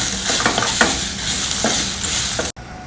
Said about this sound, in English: add about half a cup of grated coconut and fry that also along with the other ingredients